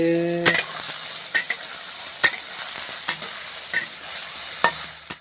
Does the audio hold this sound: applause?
no